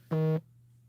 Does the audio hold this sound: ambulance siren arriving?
no